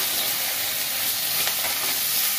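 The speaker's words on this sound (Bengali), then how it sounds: "লবণ হলুদ তেলের ওপরে দিয়ে দিলাম মাছটা।" Fish sizzles in hot oil in a kadai with salt and turmeric, a loud, continuous close-up frying hiss with faint stirring and no talk.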